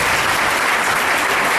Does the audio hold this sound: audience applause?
yes